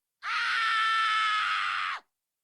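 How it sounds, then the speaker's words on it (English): A single sustained harsh scream from an isolated vocal track in a metal song mix, bright and loud, held for nearly two seconds before cutting off abruptly, with no other instruments behind it. "This next track is just a screaming track, where it is screaming."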